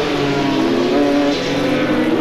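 Formula Holden open-wheel race cars racing at Mallala in 1989, a loud, dense engine roar from several cars at once, sustained and steady throughout, with no voices.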